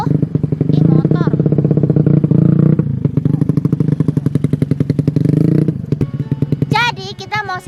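A motorcycle passing close by, its loud, rapid engine putter swelling then fading as it goes, with a brief voice near the start and end.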